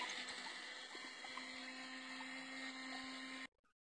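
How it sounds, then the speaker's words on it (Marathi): A kitchen mixer grinder whirs steadily and loudly, grinding ginger, garlic, cumin and coriander with a constant motor hum, then cuts off abruptly near the end, leaving near silence. "आता हे सगळं मिक्सरला वाटून घेऊ."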